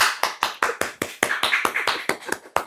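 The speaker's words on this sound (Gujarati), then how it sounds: "જોરદાર તાળીઓ." Applause for a cycle race winner receiving a medal at a family gathering: a small group claps briskly and rhythmically, about a dozen sharp, close hand claps in quick succession.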